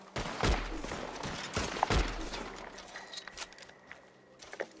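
Gunfire in the Red Dead Online video game, a few sharp close shots early on followed by fainter scattered pops and clicks, with no speech.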